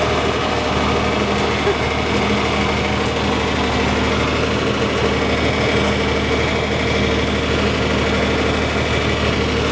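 A John Deere 4020 tractor engine runs steadily as the machine backs up, giving a loud, continuous drone with constant vibration and no change in pitch over the whole stretch.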